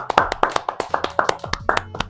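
A small group of friends clapping in a rough, uneven rhythm, sharp close claps in quick succession, with a few vocal noises mixed in.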